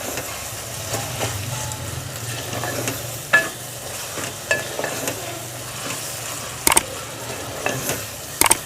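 Mashed brinjal fries in a pan with a low, steady sizzle as a spatula stirs and scrapes it, leaving occasional sharp clinks against the metal.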